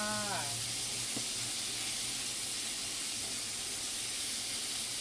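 Chicken offal stir-fried in a hot pan, a constant loud sizzle and hiss of frying that runs the whole time, with a brief tonal sound at the very start.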